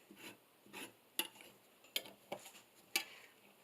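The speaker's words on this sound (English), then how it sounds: "And then I screw another T onto that nipple." A pipe T fitting is screwed onto a pipe nipple for a pipe floor lamp, making faint, close metallic scrapes and a few sharp ticks as the threads turn in short strokes.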